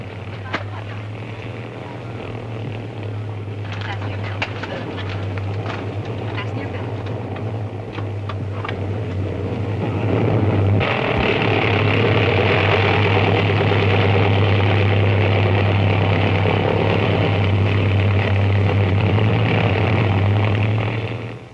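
A propeller airliner in flight in 1949, a steady loud droning engine hum with a low throbbing tone that swells midway and holds, close and continuous.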